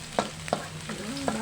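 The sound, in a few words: garlic sizzling as it is fried in a pan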